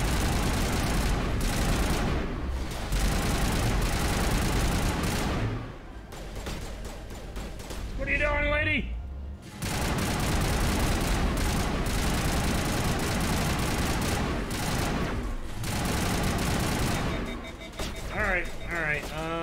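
Dense gunfire crackles through a Mass Effect firefight in long, loud volleys broken by short lulls, with a voice talking over parts of the shooting.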